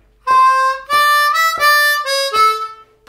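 A solo harmonica plays the third lick of a song, four distinct held notes with bends, each attacked crisply in a steady rhythm, close and loud against a quiet background.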